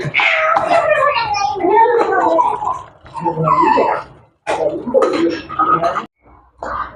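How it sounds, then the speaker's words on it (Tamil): A wild cat meows loudly and close by in Jaffna, during a heavy downpour, giving several drawn-out, wavering cries with short silences between them. "காட்டுப்பூனை"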